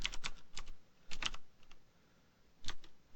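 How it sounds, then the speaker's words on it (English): Computer keyboard typing a command, with several quick clusters of crisp key clicks separated by short pauses, close and clear with no talking. "Type in the command for changing your password,"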